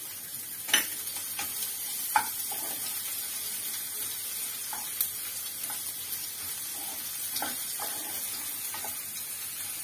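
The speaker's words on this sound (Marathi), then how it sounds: "आता कांदा लाल करून घ्यायचा आहे, चांगला एकदम लाल भाजायचा आहे" Chopped onion with a pinch of salt frying in a pan for Kerala-style sukka chicken, a steady close sizzle with intermittent clicks and scrapes of stirring throughout.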